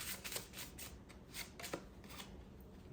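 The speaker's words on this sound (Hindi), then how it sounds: "I need one card but I will shuffle again" Tarot cards being shuffled by hand, a quick run of riffling flutters and soft slaps in several bursts, close and fairly quiet, with no talking.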